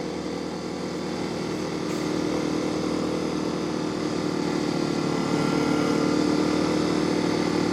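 Honda XR250 dirt bike riding through woods, its engine droning steadily and close throughout, getting slightly louder toward the end, with no talk.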